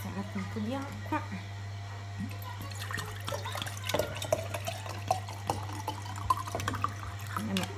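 Water runs from a tap at moderate level, a steady trickle and splash with a constant hum beneath, in a home setting.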